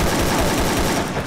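Rapid, dense gunfire in a battle royale esports video game match, loud bursts of automatic shots overlapping one another in a continuous barrage.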